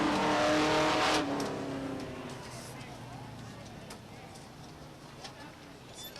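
Weekly stock car racing at Beech Ridge Motor Speedway in 1993: engines drone and fade from a loud opening burst, as if a pack of cars is pulling away, with the track sound continuing faintly to the end.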